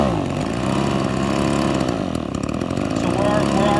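Small gasoline engine with an empty tank idling to burn the remaining fuel out of its carburetor, a steady buzzing drone throughout, with a voice speaking over it.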